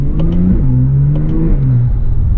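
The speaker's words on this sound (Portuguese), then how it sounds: "E ele começa a dar os estouros atrás" A Porsche 911 Turbo (991.1) downshifting on light throttle, its engine dropping in pitch in steps while brief crackling pops burst from the exhaust, loud and close with no talk.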